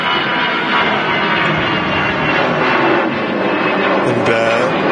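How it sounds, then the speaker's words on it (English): An Air France airliner rotates on takeoff at Manchester Airport, giving a loud, sustained broadband jet engine roar that stays strong throughout. "Early rotate from the Air France"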